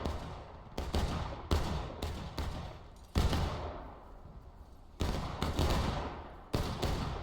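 Musket volleys crack repeatedly in a War of Rights 1776 battle, loud overlapping shots arriving in uneven bursts, each followed by a rolling echo that decays before the next.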